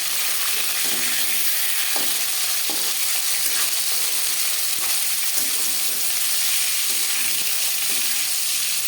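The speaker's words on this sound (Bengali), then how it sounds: "মাছ আমি হালকা করে ভেজে নিলাম আপনারা চাইলে এর থেকেও কড়া করে ভাজতে পারেন" Silver carp fish pieces fry in a pan for a capsicum curry, giving a loud, constant sizzling hiss. Faint clinks of turning and stirring come through now and then, and nobody speaks.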